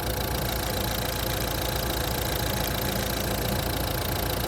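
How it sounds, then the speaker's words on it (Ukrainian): A Volvo V40 engine idles steadily and evenly, a constant close mechanical hum and whir with no talking. "Двигун працює рівно, чітко, без посторонніх шумів,"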